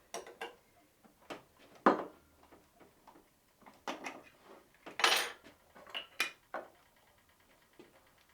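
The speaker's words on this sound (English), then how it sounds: "treacle, milk and butter in pan on a right low heat and get it melting while giving it a bit of a stir" A spoon clinks and scrapes in a pan of treacle, milk and butter melting over low heat, with scattered irregular metallic taps and knocks close by, no talking.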